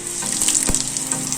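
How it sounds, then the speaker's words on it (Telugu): Continuous oil sizzle and frying hiss from a rasam tempering as a pinch of asafoetida goes in, steady and close with a brief soft thump midway, no voices. "అలాగే ఇందులోకి చిటికెడు ఇంగు యాడ్ చేయాలి."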